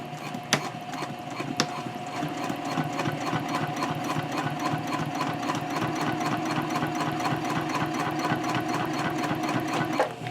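Sewing machine back stitching a messenger handbag near a strap holder, a steady rapid mechanical whirr of needle strokes running continuously and close, with a couple of sharp clicks early on.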